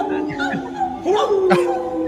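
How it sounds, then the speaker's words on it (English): Dogs yip and bark at people howling nearby, short sharp barks breaking through a sustained human howl that slides upward and holds, all fairly close. "Our dogs are barking at the howling."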